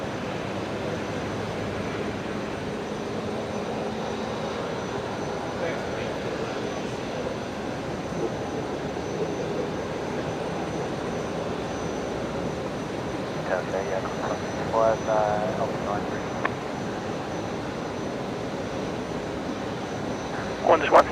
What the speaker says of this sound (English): likely to see velocity 1404 departing first, which is the 737-800 going to Adelaide